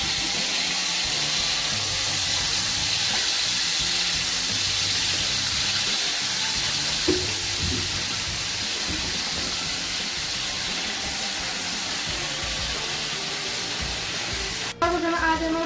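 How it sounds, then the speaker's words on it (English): Garlic and ginger sizzling in hot oil for a curry, a loud, steady, close hiss of frying that fills the whole stretch without pause, ending with a brief clatter. "we will heat up our oil and then add our garlic and ginger and stir that in"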